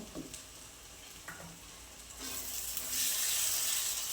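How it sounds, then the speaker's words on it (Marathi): Masala spices frying in oil for a rustic black-masala potato dish, a soft close sizzle with faint stirring clicks that grows louder toward the end, with no speech. "आता मसाला छान असा परतून घ्यायचा आहे"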